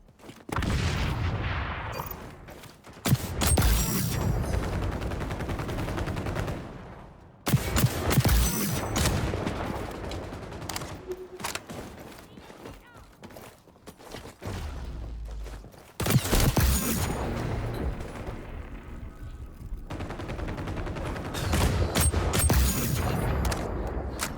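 Marksman rifle fire in the shooter game XDefiant, heard as repeated loud gunshot bursts with booming impacts, grouped into several separate volleys with short pauses between them.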